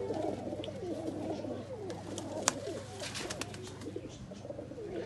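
Highflyer breeder pigeons in Faisalabad coo softly and continuously, a low rolling murmur from several birds close by, with one sharp click partway through.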